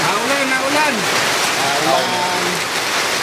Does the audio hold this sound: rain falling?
yes